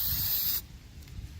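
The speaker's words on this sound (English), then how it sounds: "that's the second coat of DEI high temp spray" DEI high-temperature spray coating hisses from an aerosol can in one loud, steady burst that cuts off abruptly, leaving quiet room noise.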